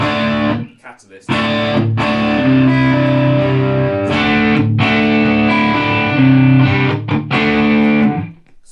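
An electric guitar played through a Line 6 Catalyst amp rings out in loud, sustained chords with a driven, effected tone, separated by a few brief pauses.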